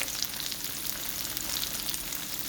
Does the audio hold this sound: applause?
no